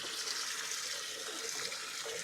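Water pours steadily into a container in a home garden to dilute compost tea for watering plants, a continuous close hissing splash with no speech.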